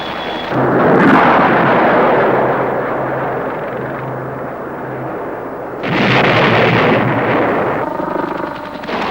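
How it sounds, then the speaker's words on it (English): A Cobra attack helicopter fires TOW missiles, producing loud, roaring broadband blasts: one sustained rush of several seconds, a short lull, then a second powerful burst that trails off. "they cautiously unmask for a few seconds, just long enough to fire a TOW missile and guide it to its target"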